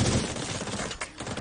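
Dense, continuous gunfire from a firefight in the Division 2 video game, a loud overlapping fusillade of bursts and automatic fire with no pause across the short stretch.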